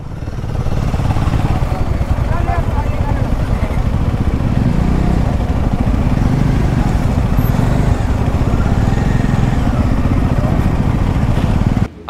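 A large group of motorcycles idles and rumbles at a highway toll gate during a Sunday morning ride, with a dense, steady engine drone throughout that stays loud and close and cuts off at the very end.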